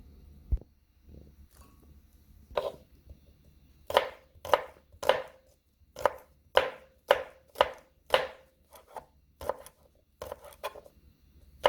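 A knife mincing garlic on a cutting board sounds a few scattered taps at first, then settles into a steady run of crisp chops about two per second, close and clear against a quiet room.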